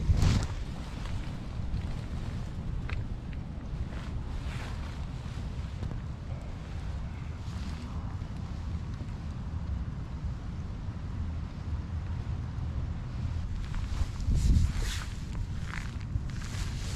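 Wind gusts steadily across an outdoor microphone during a photography outing, making a continuous low rumble with occasional rustles and bumps and a stronger gust near the end. No one speaks.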